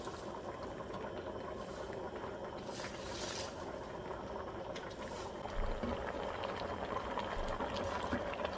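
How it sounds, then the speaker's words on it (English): A pot of water boiling on the stove for cooking unripe plantain with kale, a steady soft bubbling and hiss throughout, faint and close, with a slightly stronger burble near the end. "It's boiling."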